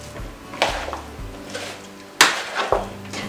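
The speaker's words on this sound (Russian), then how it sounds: "И тщательно все перемешиваем." Vinaigrette salad being tossed in a bowl gives a few close clattering knocks and scrapes of a utensil against the bowl, irregular and moderately loud, with no talk.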